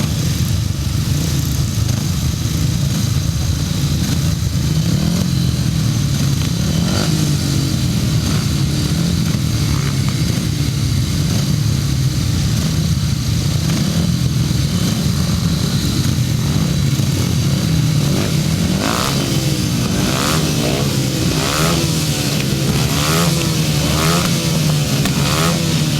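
Motorcycles race at a British grasstrack meeting, a loud, continuous roar of engines with rising revs and a surge of passing machines toward the end.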